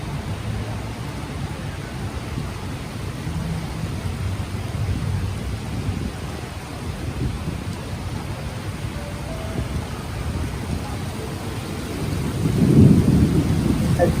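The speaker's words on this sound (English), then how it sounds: "And thunder." Heavy rainstorm at night beside the Petronas Towers, with a steady roar of downpour throughout and a loud, low rumble of thunder building near the end.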